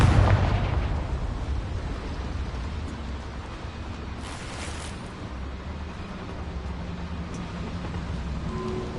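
A Confringo fire spell blasts in the Hogwarts Legacy video game, giving a loud, rumbling explosive burst that stays thick and noisy throughout, with a sharper crackle near the middle and no talking.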